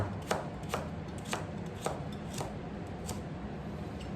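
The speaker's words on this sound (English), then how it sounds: "You can just use a knife and just cut the rest." A kitchen knife chops through vegetables for miso soup on a cutting board, a steady run of about eight crisp, evenly spaced taps close by, with no talk.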